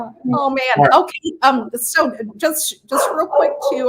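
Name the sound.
dog barking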